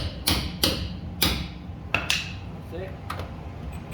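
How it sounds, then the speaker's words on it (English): A hammer taps a socket onto a stuck brake caliper nut on a 2017 Ford F-150, giving five or six sharp metallic strikes at uneven intervals, close and loud, with faint clinks between. "I'm gonna have to use the hammer and get that socket all the way in."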